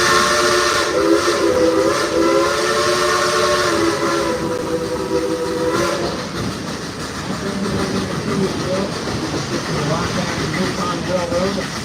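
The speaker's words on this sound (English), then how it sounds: "our narrow gauge Mikado style engine number 192" A narrow gauge Mikado-style steam locomotive sounds a long multi-tone whistle over the rumble of the running train, then the whistle cuts off and the chugging continues.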